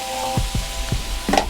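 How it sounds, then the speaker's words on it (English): Pineapple and peppers sizzle in a wok, a steady close frying hiss broken by several low thuds and scrapes as the food is tossed. "got that pineapple browning and caramelizing"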